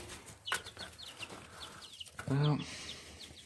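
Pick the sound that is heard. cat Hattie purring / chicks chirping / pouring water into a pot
chicks chirping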